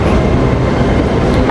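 A train waiting at a railway station where a passenger with a bike is about to board, giving a steady, loud low rumble with rail noise throughout and no voices.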